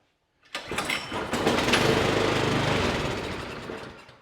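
Troy-Bilt 2410 snow blower engine catching at once and running steadily, a loud, dense mechanical roar that holds for several seconds before easing slightly.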